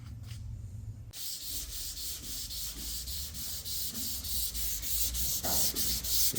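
A car deck lid on a 1963 Buick Riviera is sanded with 320 grit sandpaper, a steady rhythmic rubbing scrape that begins after a second of quiet and repeats in even strokes, close and fairly loud with no talking.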